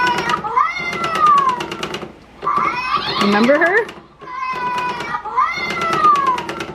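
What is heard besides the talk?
toy cat meowing after its button is pushed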